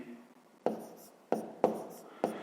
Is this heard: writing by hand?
yes